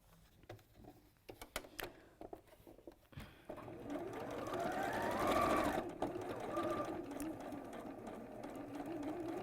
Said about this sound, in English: I'm going to sew around the edge